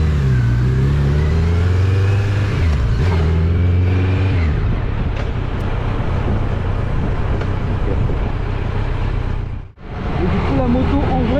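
Kawasaki Z900 A2 motorcycle engine droning loud and close, rising through a few revs early on and then holding a steady roar with wind buffeting the microphone and a brief dip near the end.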